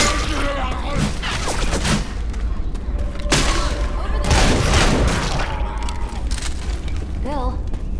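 Dense gunfire bursts and booming impacts from a zombie-survival shooter game (Left 4 Dead 2), loud and continuous with several heavy thuds, while voices talk over the action.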